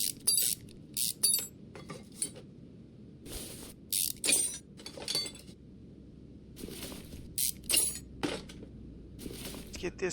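Ratchet clicks and metallic clinks from removing the outer and inner tie rods of a 1960 Chevrolet Corvette C1 barn find in Car Mechanic Simulator 2021, coming in short separated bursts with quiet gaps between them.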